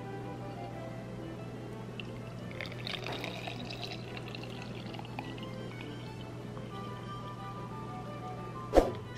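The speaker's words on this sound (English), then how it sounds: "ends up pouring hot water," Hot water poured over coffee in a home kitchen, a soft continuous pouring and trickling stream over a low steady hum, ending with a brief sharp clink near the close.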